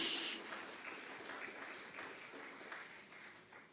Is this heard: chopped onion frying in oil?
no